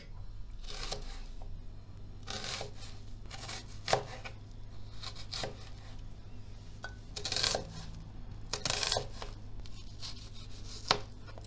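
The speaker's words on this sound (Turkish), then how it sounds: "Şimdi çok ince olmayacak şekilde piyazlık doğruyorum." A knife slices onions on a cutting board in scattered crisp strokes, some in quick pairs, close by and moderately quiet with no talking.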